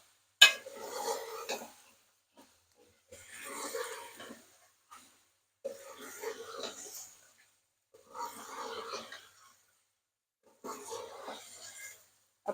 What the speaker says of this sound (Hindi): अब चिकन के साथ मिक्सी करेंगे इसकी।